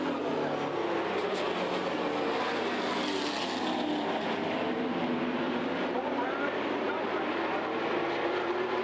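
Junior late model race cars run side by side at All American Speedway, a continuous loud roar of engines sweeping past on the back straightaway with no break, joined by a race commentator's voice.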